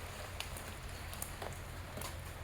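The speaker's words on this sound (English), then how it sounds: "And it splashes. It bounces back." Rainwater splashing and bouncing back near a crack, a faint, soft continuous patter with a few light droplet ticks scattered through, quiet and close.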